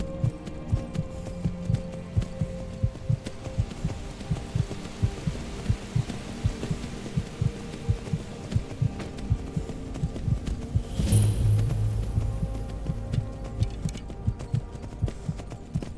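Horse hooves clip-clop in a steady, even rhythm while riding in the video game Skyrim, close and continuous, with a brief swooshing sound partway through.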